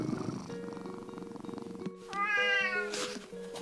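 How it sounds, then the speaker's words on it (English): A pet cat lets out a clear, close, drawn-out meow over soft background music, followed by a brief burst of noise. "Let's meet Riley, who's our next cat."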